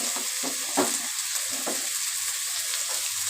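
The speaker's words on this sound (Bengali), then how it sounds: "এবার আমি খানিকক্ষণ ভেজে নেব একটু লাল লাল করে ভেজে নেব চিচিঙ্গাগুলো" Snake gourd and onions sizzle steadily in hot oil in a pan, a constant crackling hiss with a few soft stirring scrapes, close and alone without voices.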